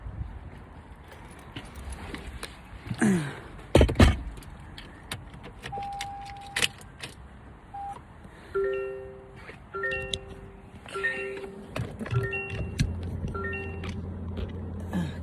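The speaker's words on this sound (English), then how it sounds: "And we are driving." A car starts and pulls away at close range, with keys jangling, an electronic chime repeating in short beeps, and engine and road noise rumbling steadily underneath.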